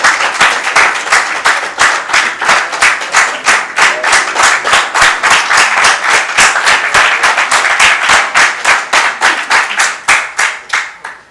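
A crowd at a literature festival poetry session clapping in unison, loud and close, with steady rhythmic synchronized beats about three or four per second that keep going before thinning out at the end.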